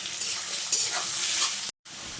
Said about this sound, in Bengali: আলুটা একটু লাল লাল করে ভাজা ভাজা করে নেব